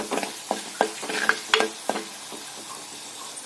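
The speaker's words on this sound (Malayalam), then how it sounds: "നന്നായിട്ടൊന്ന് ഇളക്കി കൊടുക്കുക" Beans are stirred with turmeric and chili powder in a pan, a spatula scraping in quick, irregular strokes with a light sizzle underneath, close by.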